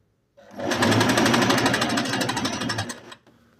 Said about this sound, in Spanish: la máquina va para atrás y para adelante para poder lograr la costura